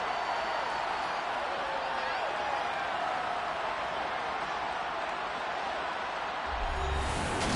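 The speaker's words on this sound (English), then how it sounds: "Plenty of shouts from this crowd as they watch the replay." A stadium crowd in a football video game roars in a dense, continuous wash of shouting that holds steady throughout, with a commentator's voice faintly under it near the end.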